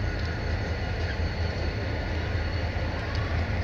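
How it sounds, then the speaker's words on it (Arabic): A Dekernes–Manzala passenger train at Mansoura railway station in Egypt, a steady, loud rumbling roar of wheels and carriages running continuously throughout with no voices. "ما نشاهده قطار ديكيرنس والمنزلة"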